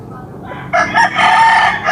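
A Boston gamecock rooster crows loudly and close by, its drawn-out call rising after a quiet start and running to the end with a brief break.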